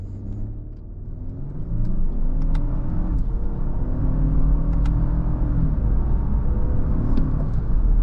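A heavy Lexus LX600 Ultra Luxury SUV accelerating at full throttle uphill from a stop in first gear, a deep rising engine rumble with road noise that swells after a quiet start and holds loud and steady from inside the cabin.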